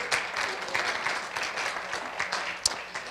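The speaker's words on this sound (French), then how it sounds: "Alors, pouvez-vous donner un autre main d'applaudissement pour ceux qui supportent ceux qui sont là aujourd'hui?" Church congregation applauding, a brief burst of scattered hand clapping from a room of people, moderate in level and fairly even across three seconds.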